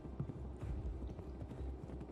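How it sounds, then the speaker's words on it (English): A horse rides off in The Pillars of the Earth video game, soft steady hoof clip-clops at a moderate distance over a low rumbling background, faint and even. "He laughed, got back into the saddle, spurred his horse, and rode off."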